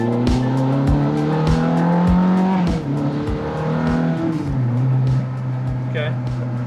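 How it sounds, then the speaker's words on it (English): A Ferrari on a test drive roars loudly up close as its engine revs climb and drop through several gears, with tire noise and a brief high squeal near the end. "we took it for a test drive"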